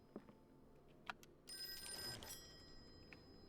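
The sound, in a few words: telephone ringing in the Call of Cthulhu video game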